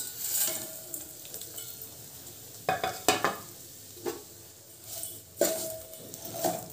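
Vermicelli roasts in hot ghee in a pan while being stirred, a soft, low sizzle with intermittent scrapes and clinks of the spoon against the pan; close but quiet, with no voices.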